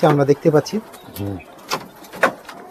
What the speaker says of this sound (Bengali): পায়রা একে একে ছাড়ছে